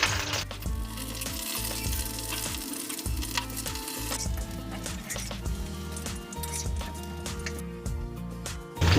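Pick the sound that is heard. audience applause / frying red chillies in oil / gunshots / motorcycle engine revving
frying red chillies in oil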